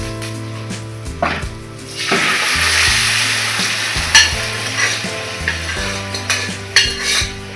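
Cooked green peas tipped into a pan of frying curry leaves and shallots for a green pea curry, a close, loud sizzle with scraping stirs and clinks of a utensil against the pan, repeated in uneven strokes, no talking.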